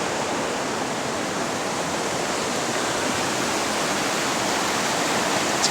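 River water flowing right beside a campsite at Lone Pine, a steady broadband rushing wash with no breaks, close and fairly loud, with no voices.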